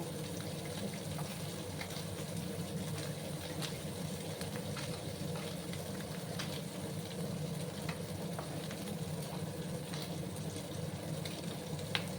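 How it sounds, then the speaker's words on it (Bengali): Small fish fry in a pan of oil with a steady, soft, continuous sizzle and occasional faint crackles, heard alone at low level. "আর একটু সময় আমি মাছগুলোকে ভেজে নিচ্ছি, তারপর আমি তুলে নেবো।"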